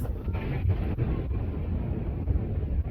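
Wind gusting across the open shore of Sukhna Lake in Chandigarh, a steady low rumble of buffeting against the microphone that carries on throughout with no voices.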